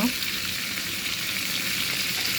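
Chopped garlic frying in oil alongside dried chillies for red amaranth greens, a loud, dense, steady sizzle heard close up with faint stirring underneath.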